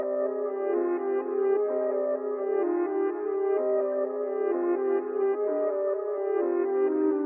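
A melodic loop from the Cymatics 808 Mob Melodies sample pack plays alone, a clean synth or keys line repeating a short sequence of sustained tonal notes at a steady tempo.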